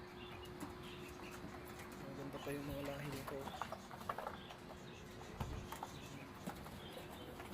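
Soft pigeon coos sound close by amid faint fluttering and rustling, while a person talks quietly over them.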